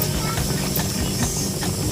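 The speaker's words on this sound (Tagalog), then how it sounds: "kumukulo na" A steady hissing, bubbling rush of water at a rolling boil in a pot, loud and continuous with faint clicks throughout.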